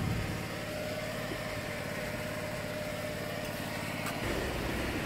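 A pressure washer runs continuously while washing a wooden fence, a loud, steady engine drone with broadband spray hiss throughout and a brief shift near the end, with no talk.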